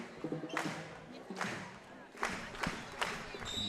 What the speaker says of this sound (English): You're going to hear the crowd very into it here.